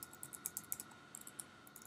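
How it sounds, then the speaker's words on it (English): Rapid, uneven clicking of keys on a computer keyboard as an email address is typed, fairly quiet and close, with no voices. "You can see as I type an email address and hit space"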